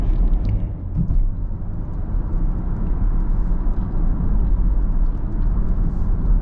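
Steady, loud low rumble from the engine of a 2018 Camaro SS 50th Anniversary Hot Wheels Edition while driving, a deep constant drone without a distinct rev spike; no talking.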